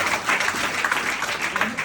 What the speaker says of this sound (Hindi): बजाओ ताली इसके लिए।